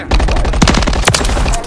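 Rapid automatic gunfire in the video game Modern Warfare 3, loud and close, with bursts of sharp cracks and echoing reports rattling continuously with no voices.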